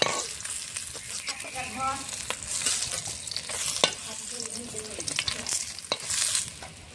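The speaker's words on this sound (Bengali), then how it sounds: "মাছগুলো ভাজা হয়ে গেছে, নামিয়ে নিচ্ছি।" Catla fish pieces crackle and sizzle in hot oil, close and steady, broken by sharp pops and the clatter of a spatula as the pieces are turned and lifted out.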